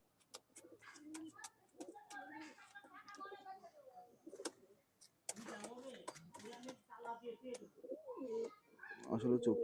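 Khulna old-bloodline pigeons coo softly and steadily close by, mostly under ongoing conversation.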